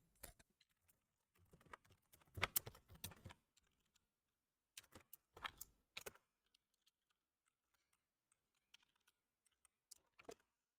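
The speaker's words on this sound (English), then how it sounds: "my keyboard is a bit clanky" Fast bursts of typing on a clanky computer keyboard, clustered clacking keystrokes in several irregular runs separated by quiet pauses, close and fairly soft with no talking.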